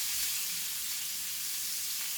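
Flour-coated chicken pieces fry in hot oil with a steady, dense crackling sizzle, close and continuous, with no voices.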